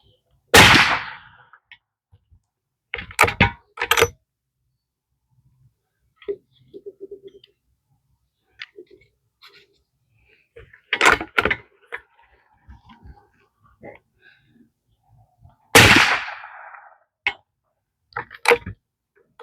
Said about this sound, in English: We'll go ahead and shoot another 3-shot group with this ammo